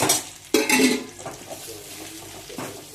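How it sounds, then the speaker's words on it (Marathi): A vegetable sautés with crushed coconut and black masala in a pan, with a sharp spatula clank, brief sizzling bursts and scraping stirs, fairly close and without talk. "चांगला परतून घेते मी त्याला खोबऱ्याच्या कुटला आणि मसाला हा काळा मसाला भाजीचा"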